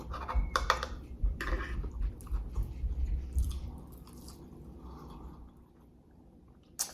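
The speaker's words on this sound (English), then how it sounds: "I love how crunchy the bacon is." Crunchy bacon is chewed close to the mic during a breakfast mukbang, irregular crisp crackling bites and soft mouth sounds over several seconds, fading near the end.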